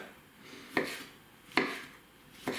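A knife cuts through a tomato for homemade shawarma in three evenly spaced, crisp strokes against a board, quiet and close with no voices.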